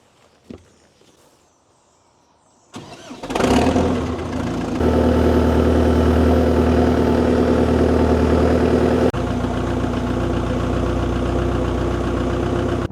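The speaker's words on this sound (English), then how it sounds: "let's go get the scraping tractor and scrape this cow house out." A farm scraping tractor used for cleaning out a cow house cranks and starts, then settles into a steady, loud diesel idle that carries on close by.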